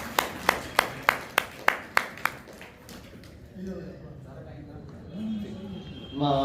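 A handful of sharp, evenly spaced claps from an audience at a Hindi poetry gathering, about eight strokes in steady rhythm over two seconds, then fading into low room murmur and speech.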